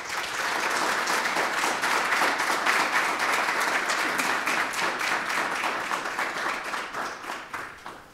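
An audience claps steadily to welcome a speaker at a talk, a dense, even wash of applause that thins and fades over the last couple of seconds.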